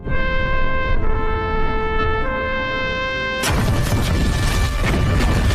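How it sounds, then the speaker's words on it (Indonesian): A grenade explodes in a war film, a sudden loud blast that bursts in midway over a sustained musical score and leaves a rough, crackling roar until the end. "Granat itu pun meledak"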